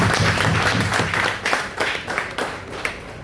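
An audience at a society committee swearing-in ceremony in a Bagh Lingampally hall claps loudly, a dense burst of applause that swells and fades in waves.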